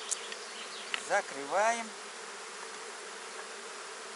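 Honey bees buzz in a low, steady drone at an open hive on a wet, overcast apiary day during colony splitting, with a few brief louder swells and a short spoken word over the hum.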